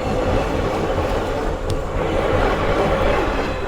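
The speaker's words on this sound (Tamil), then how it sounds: "ஏய், பாண்டிச்சேரி ட்ரெயின்" A train bound for Pondicherry rolls past a level crossing, a loud continuous rumble of wagons close by with steady rail noise throughout and no talking.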